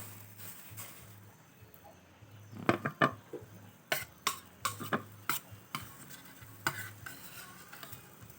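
Fish dropped into boiling broth while making Lao-style fish laab, heard as a run of sharp clicks, taps and splashy stirring knocks in the middle of the clip over a low bubbling background, fairly close and with no talk.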